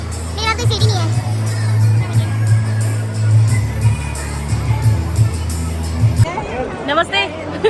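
Crowd chatter fills a packed hall at an Independence Day tribute event, a dense babble of many voices with a steady low hum underneath and children's voices rising near the end.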